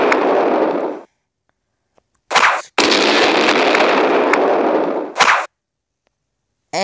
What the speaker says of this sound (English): Secret surprise explosion.